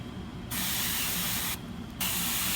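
Ultramarine paint sprays from an airbrush in two bursts of steady, close hiss separated by a short pause, with no voices.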